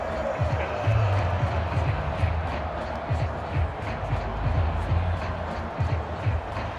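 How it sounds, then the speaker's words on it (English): A large stadium crowd in an NFL video game roars and claps continuously for the defense, a dense, steady wall of cheering with faint thumps underneath. "How about some applause for the defense there?"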